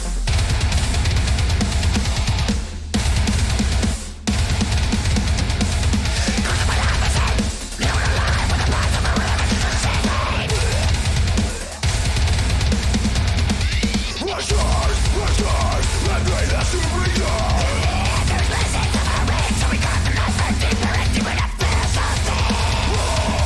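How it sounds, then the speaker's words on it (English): A new song by a heavy band plays as a dense, loud, continuous mix of distorted guitars, bass and drums with only brief breaks in the wall of sound. "So here's a little clip of what my new band song sounds like."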